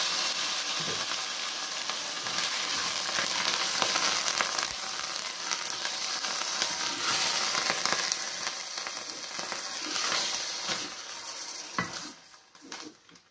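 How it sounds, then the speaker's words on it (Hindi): Half a kilo of minced meat (keema) fries in oil in a pan with a loud, dense sizzle, a few soft stirring clatters, and the hiss fading away at the end. "कीमा पकाते हैं"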